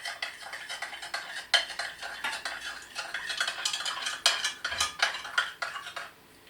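A yeast and honey mixture stirred briskly in a bowl, a utensil scraping and clinking against the sides in quick uneven strokes, close and clear with no talk.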